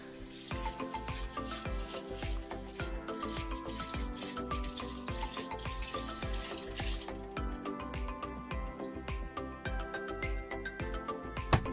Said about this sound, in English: Let's add a bit more red wine.